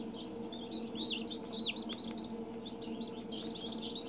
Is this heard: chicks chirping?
yes